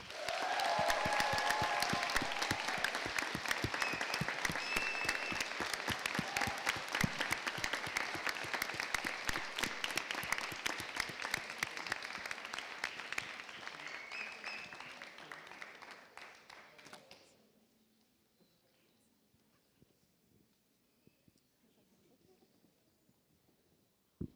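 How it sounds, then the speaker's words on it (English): An audience at a Model UN closing ceremony applauds with loud, dense clapping for about fifteen seconds, then it thins out and stops, leaving near silence. "Please give a round of applause to the best delegate of the World Health Organization at BIMUN 2026"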